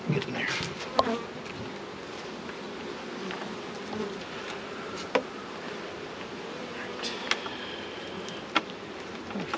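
Honey bees buzzing around an open beehive, a continuous close swarm drone with occasional sharp clicks and handling sounds.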